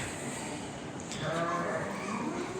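Young Kangal lambs in a pen bleat, one clear wavering cry rising above a steady background hum of the farm.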